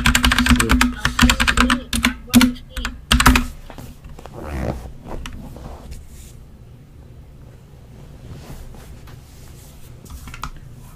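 A computer keyboard sits right beside the microphone and clatters loudly in quick bursts of keystrokes for the first few seconds. The typing then thins out into scattered, quieter taps over a faint background hum.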